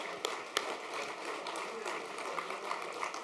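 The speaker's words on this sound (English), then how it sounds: "Round of applause." Audience applause at a history quiz bowl, steady even clapping from a room of people with a few sharper claps standing out, no talk over it.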